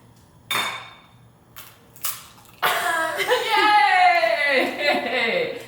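A few sharp taps of an egg cracking against the rim of a bowl, set apart by short quiet gaps, followed by people talking and laughing close by in a home kitchen.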